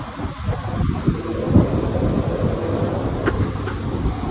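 Steady rain falls outdoors in Konkan, India, a continuous broadband wash with faint low rumbling underneath and no voices.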